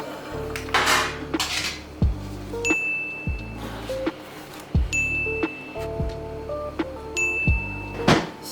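Metal baking tray and pans set out in a home kitchen: repeated clanks and clinks of metal on metal, with scraping and bright ringing hits at irregular intervals, close and fairly loud, without voices.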